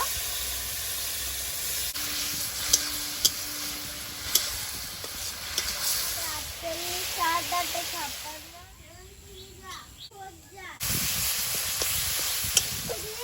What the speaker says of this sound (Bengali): টমেটো সামান্য একটু জল দিয়ে দেব